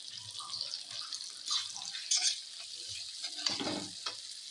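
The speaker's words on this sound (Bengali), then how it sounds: "মশলাটা দিয়ে এখন কষবো" Spice paste fries with potatoes in a pan, a soft hiss and sizzle broken by scraping stirs and a louder clattering stroke near the end, moderately quiet with no talk.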